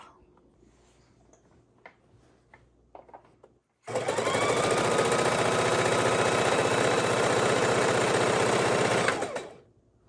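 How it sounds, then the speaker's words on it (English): A sewing machine chain-stitches green, brown, pink and yellow quilt pieces to a rainbow strip, running loud and steady for about five seconds after a few quiet handling taps. "We're just going to keep matching these up and chain stitching them across."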